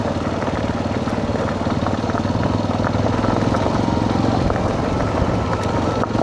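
An NS-200 motorcycle riding along a road toward Savandurga, its engine a loud, close, continuous drone with a steady pulsing beat and no talking.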